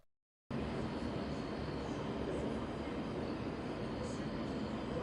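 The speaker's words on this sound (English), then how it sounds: "It sounded like a jet in a song" A loud, steady roar like a jet aircraft passing, heard as part of a song, begins abruptly after a brief silence and holds evenly to the end with no talk over it.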